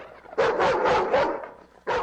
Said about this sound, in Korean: 땅에 내려놓자마자 그 조그만 검은 개는 마지못해 물러서는 노란 테리어를 향해 으르렁댔다.